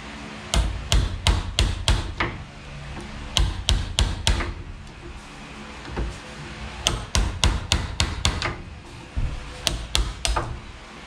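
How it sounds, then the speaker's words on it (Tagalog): A hammer drives a chisel into a wooden door to cut a recess for a deadbolt, landing sharp, close wooden knocks in quick bursts of four to six strikes separated by short pauses. "Papaitan natin dito sa ibabaw, saka sa ilalim ng tag-kaunti lang para mag-cash to."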